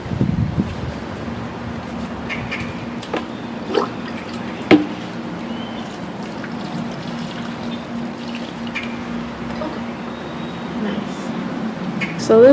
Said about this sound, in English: I'm gonna water this one.